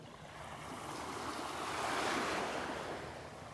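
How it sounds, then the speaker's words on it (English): Very small, calm waves lapping at Vanderbilt Beach on a still morning: a soft, steady surf wash swelling gently and easing off again, faint and close, with light wind and no voices. "Just the tiniest of waves."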